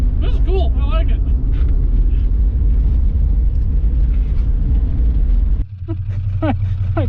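A 1960s car's engine rumbles steadily and loud while driving, a deep continuous drone throughout, with a brief change near the end as the vehicle slows.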